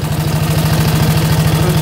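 A 1927 BSA B27 Wedge Tank 250cc motorcycle engine idles close by, a loud, even, rapid low thumping that holds steady throughout with no talking.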